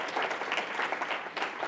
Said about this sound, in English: one more round of applause for Bill